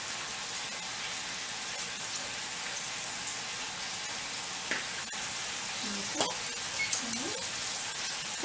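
Italian sausage browns in a pan with a steady, close sizzle and crackle, joined near the end by a few soft clinks and a faint voice in the background.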